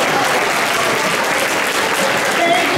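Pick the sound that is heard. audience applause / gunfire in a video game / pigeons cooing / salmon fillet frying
audience applause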